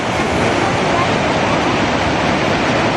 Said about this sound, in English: There goes the water, disappearing under the snow.